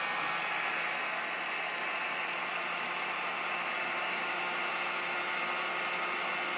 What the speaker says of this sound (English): Now I'm going to use this heat gun